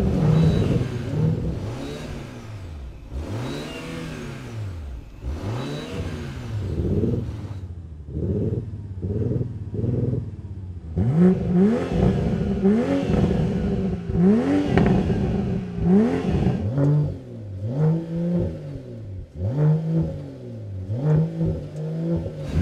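A diesel Audi S4 and a Volvo S60 Polestar accelerate hard in a drag race, engines rising and falling in pitch through repeated gear changes, loud and close with a rumbling build over twenty seconds.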